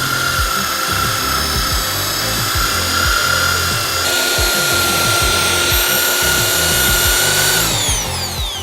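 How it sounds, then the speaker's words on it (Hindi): A power drill spins a brush through a bucketful of potatoes and water, a loud, close whine that holds steady with a shift in pitch partway, while churning, scrubbing knocks pulse rhythmically underneath before the motor winds down. "ड्रिल में जो बिट है उसकी जगह ब्रश घूम रही है।"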